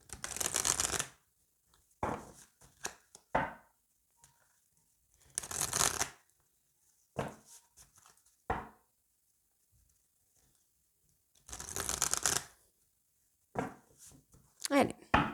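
Oracle cards shuffled in repeated bursts of riffling and soft slaps, close and clear, with quiet pauses between each round of shuffling.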